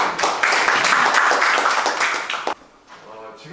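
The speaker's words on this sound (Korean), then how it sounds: "많은 박수로 맞이해 주시겠습니다" Lecture audience at a taekkyeon academic conference claps, a dense burst of applause lasting about two and a half seconds before cutting off, followed by faint room sound and a voice.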